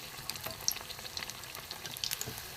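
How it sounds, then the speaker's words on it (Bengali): Begun bhaja, eggplant fritters, frying in hot oil, a soft steady sizzle with small crackling pops scattered across the moment, fairly quiet and heard alone. "একটা একটা করেই ভাজবো"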